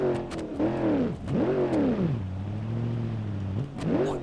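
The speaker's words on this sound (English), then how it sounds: "What is this engine doing?" A very powerful car engine in the BeamNG Drive driving game revs up and down in repeated surges, settles into a steady drone, then climbs again near the end, loud and with no talking.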